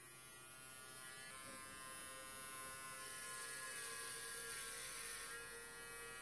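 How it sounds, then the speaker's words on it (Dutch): Electric hair clippers cutting a man's hair short, a steady close buzzing drone, faint and continuous without talk. "Ik bedoel, hoe ik zijn haar kort wiek."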